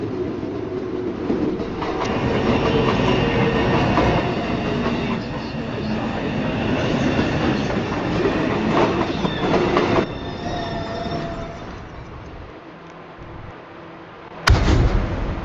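A Manhattan-bound 2 train on the NYC subway roars past loudly with rumbling wheels, squeals and rhythmic clickety-clack. It eases off toward the end before a sharp bang.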